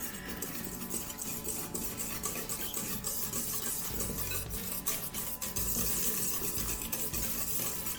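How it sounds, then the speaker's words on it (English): A whisk scrapes and stirs through a bowl of melted butter mixture while homemade hot dog buns are being made, giving a steady close-up rubbing, rasping rhythm that runs continuously with no talk. "give us a little whisk up"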